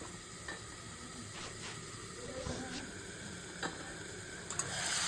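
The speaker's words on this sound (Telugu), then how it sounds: "టమోటా ముక్కల్ని కూడా మూత పెట్టి ఉడికించుకుందాం." Tomato pieces for ridge gourd chutney cook in a pan, a steady soft sizzle with a few faint ticks and clicks over the hiss, no voices.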